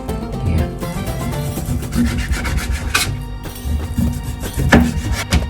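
A knife cuts a black cod fillet into halves and then quarters, giving a close, scraping, rasping sound of blade on board in repeated strokes, with no talking.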